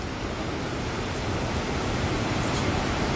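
Birekhola waterfall pours in a steady, dense rushing roar, close and unbroken for the whole stretch, with no voices over it.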